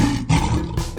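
A lion roars in a 3D animal racing video game, a loud, harsh, close roar in two quick pulses with no speech over it.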